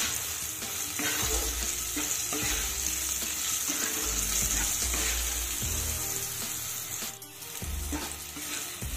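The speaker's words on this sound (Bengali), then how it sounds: "এই বেগুন ভাজতে কিন্তু একদমই সময় লাগে না, 2-3 মিনিটের মধ্যেই ভাজা হয়ে যায়।" Eggplant slices fry in hot oil in a pan, a dense, continuous close sizzle with occasional low knocks and scrapes of the pan.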